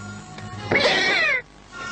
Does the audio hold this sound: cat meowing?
yes